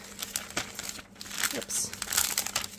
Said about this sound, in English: They're in a little plastic bag.